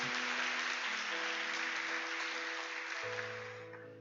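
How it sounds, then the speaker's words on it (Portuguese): A church congregation at a Brazilian Baptist celebration service claps steadily for several seconds, the dense applause over sustained keyboard chords and gradually fading at the end. "Então aplaude Jesus."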